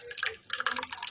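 Thin pitha batter pours into a ghee-greased container in a home kitchen, a short liquid trickle with soft drips and splashes, fairly close and quiet, with a faint voice in the background.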